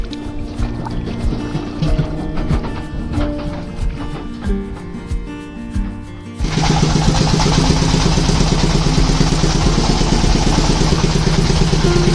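A boat engine drones on haor waters near Nabinagar, Brahmanbaria, first a lighter idling rumble, then a sudden jump to a loud, steady roar that carries through to the end.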